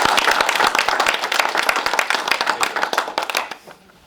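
People at a Homer Township meeting applaud together in a room. The dense clapping is loud at first and then thins and fades out over the last half second.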